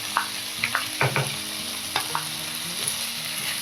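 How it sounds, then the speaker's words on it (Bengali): Ginger garlic paste fries in hot oil with a continuous sizzle. Several sharp scrapes and taps of a spatula stirring the pan sound close by. "একটু ভাজা ভাজা হতেই এইবার আমরা এই আদা রসুনের পেস্টটা দিই।"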